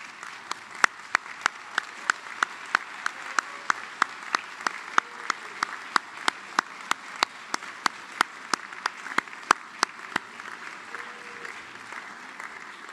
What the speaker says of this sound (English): join me in thanking them with a hearty round of applause